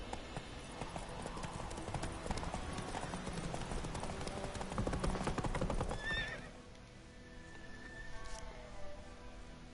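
Roach the horse galloping in The Witcher 3, rapid close clip-clop hoofbeats for about six seconds, followed by a whinny and quieter ambience.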